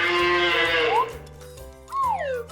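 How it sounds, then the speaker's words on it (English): A cow lets out a long, loud moo that bends upward at the end, then a second rising-and-falling call, set over steady background music. "Cow."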